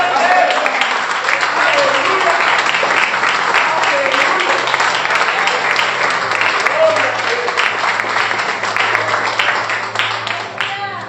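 A church congregation claps and applauds continuously and fairly loudly during worship, a dense wash of hand claps with a few voices rising faintly underneath.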